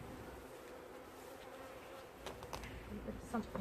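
A low, continuous hum of many honey bees buzzing close by at a weak hive, with a few louder passes and faint handling sounds near the end.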